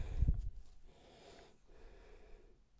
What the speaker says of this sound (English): Oh, he's snoring.